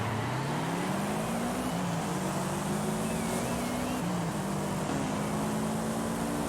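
Subaru BRAT racing truck in Forza Horizon 5, its engine droning steadily and rising in pitch through the gears with brief dips at each shift, heard close and alone without talk.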